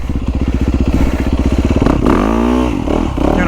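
A Yamaha YZ450FX enduro motorcycle engine, close and loud, with a rapid idling putter followed by a sharp throttle blip that rises in pitch and then falls back.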